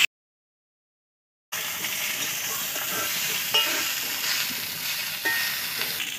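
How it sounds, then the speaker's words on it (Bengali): Potato and eggplant pieces fry in hot oil with black cumin and dried red chili, a steady close sizzle that bursts in after a silent opening, with a few faint stirring clicks. "কেটে রাখা আলু বেগুনগুলো দিয়ে দিচ্ছি। এগুলো একটু ভেজে নেব।"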